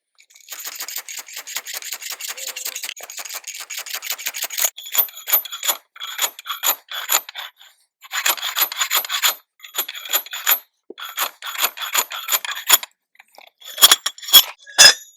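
Dry, seasoned hardwood being split with a slide log splitter: a long rasping, scraping run of wood-on-metal rubbing, then choppy bursts of sliding and knocking, ending in a few sharp, loud impacts near the end, with no talking.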